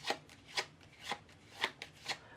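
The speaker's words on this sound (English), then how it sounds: "Now I could pick these cards up and give them a shuffle, like this." Playing cards shuffled by hand during a close-up card trick, five or six crisp riffling bursts at a steady pace, close and fairly quiet, with no talking.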